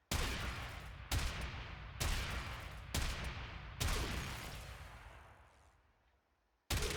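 Hek shotgun firing in Warframe: five heavy blasts at a steady pace about a second apart, each with a long booming tail, the last fading out before one more shot cuts in at the end.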